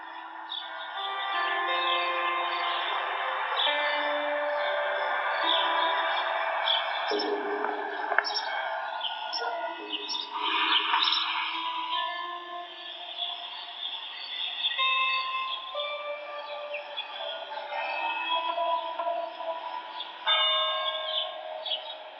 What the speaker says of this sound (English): I'm gonna play Epic Citadel, and give you a bit of an idea of the sound that you can have from the ZenFone 3